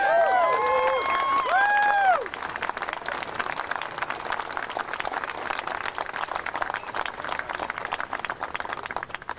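Comedy club audience applauding after a stand-up bit, a steady wash of clapping and some cheering that continues for several seconds after a brief tonal sound at the start.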